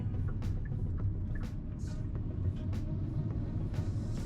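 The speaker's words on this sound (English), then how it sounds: "there's weird traffic there because of the construction they're doing." Road traffic passing near a construction site, a steady low rumble of vehicles with faint scattered clicks and brief higher noises above it, no talking.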